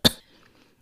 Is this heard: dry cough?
yes